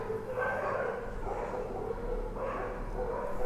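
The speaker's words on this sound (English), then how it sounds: "the dogs are playing outside." Several dogs playing outside bark and yip in muffled, distant bursts, heard as if through a wall over a steady low rumble.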